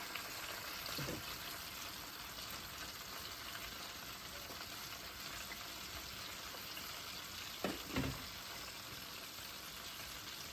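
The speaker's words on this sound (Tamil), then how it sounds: "இது பொறிஞ்சு கொண்டிருக்கு இந்த சிக்கனை ஹோல் சிக்கனை இப்படிச்சே வச்சு ஹோ முழுசாக பொறிக்க வேணும்" A whole chicken deep frying in oil makes a soft, continuous bubbling hiss that stays faint and even throughout, with a couple of slightly louder pops.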